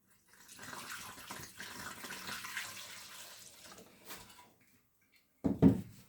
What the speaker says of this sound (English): Pouring in, can you see it now?